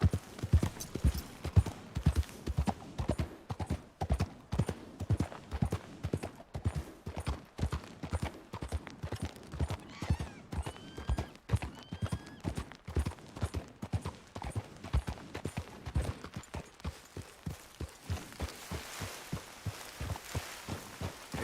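Horse hooves in the game Red Dead Redemption 2, a brisk, steady clip-clop of a trotting horse, close and loud, continuing evenly for a long stretch before easing off near the end, with no talking.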